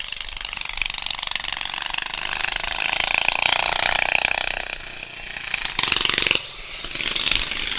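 Racing lawn tractors at an outlaw lawn-tractor race in Petrolia, Ontario drone and whine as they drive, the engine note rising and falling while an announcer speaks over the loud mechanical noise.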